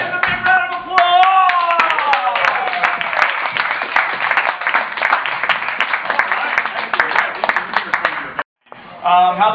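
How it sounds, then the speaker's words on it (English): Audience applause at an improv class graduation show, clapping mixed with a voice shouting over it at the start, then a continuous round of claps that cuts off briefly before resuming. "Give a big round of applause."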